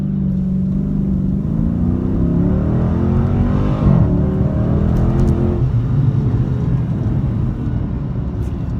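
A Dodge Scat Pack or Hellcat on Nitto drag radials launches hard in second gear on the street, its engine roaring loud and close as it climbs through the revs and shifts once before pulling again.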